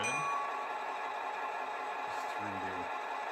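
A locomotive bell in a train simulator video game rings with a few metallic dings over a steady engine drone, while someone talks briefly in the background.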